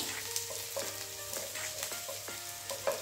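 Okra (bhindi) fries quietly in a pan, a soft continuous sizzle with light scraping strokes repeating every half second or so.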